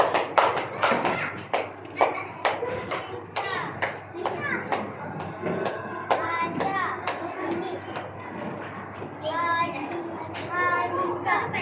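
Children in a classroom clap for a classmate: a series of sharp, separate hand claps and taps, close and fairly loud, mixed with children's voices and an adult speaking throughout.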